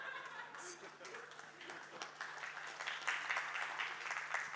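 Conference audience clapping after a speaker's jab at a tech talk, a soft, fairly distant patter of applause with a few chuckles mixed in, spreading and growing slightly louder toward the end.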